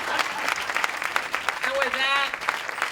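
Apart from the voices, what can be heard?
audience applause at groundbreaking ceremony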